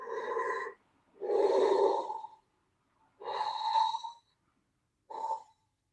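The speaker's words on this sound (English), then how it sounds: "like deep breathing, something with big lungs standing right behind the camera, messing with it" Deep, heavy breaths from something with big lungs standing right behind a trail camera in the woods, four drawn-out rasping inhales and exhales, close and fairly loud, separated by short silences.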